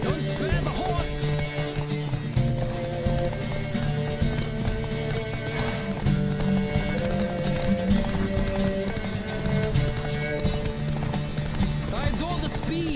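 Galloping hooves pound in a fast, even rhythm during a horse race in The Witcher 3: Wild Hunt, layered with tonal music and brief neighs.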